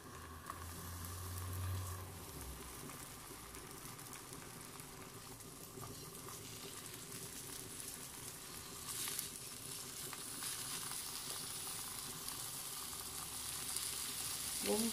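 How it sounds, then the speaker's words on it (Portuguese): Calabresa sausage, sliced in half, frying in a pan gives a continuous quiet sizzle and crackle with soft patter and occasional stirring clinks, steady throughout. "Vamos dar uma fritadinha aqui"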